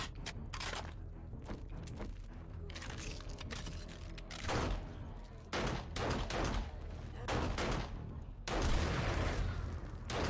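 Blunderbuss gunfire in the zombie survival game 7 Days to Die, loud booming shots repeating at irregular intervals across the clip, with game noise underneath and no speech.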